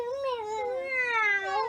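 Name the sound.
person imitating a cat meowing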